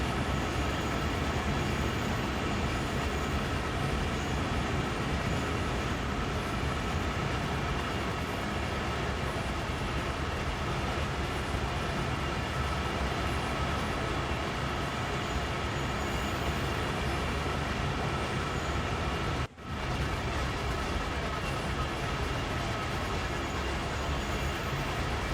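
Three locomotives run together in Train Sim World 3 on the Peninsula Corridor, a loud, steady diesel engine roar and rumble that holds constant with no break apart from one brief dropout near the end.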